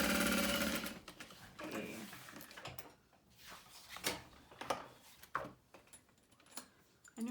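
A sewing machine stitches a fabric bag in a short loud run that stops, then brief clicks and handling noises follow, with a voice speaking briefly.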